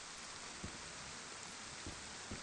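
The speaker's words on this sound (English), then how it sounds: "This rain is really covering up." Steady rain falling in the DayZ video game, a dense, even hiss of downpour with a few soft low thumps, filling the scene with no voices over it.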